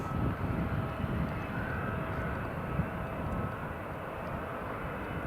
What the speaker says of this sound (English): Ryanair clear for takeoff.